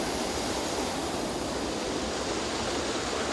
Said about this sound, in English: time to crossing the stream